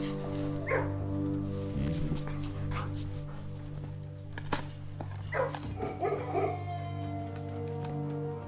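A dog barks and yips from a kennel in the video game Blue Prince, a few short yaps and whimpers rising over steady background game music, moderately loud and close.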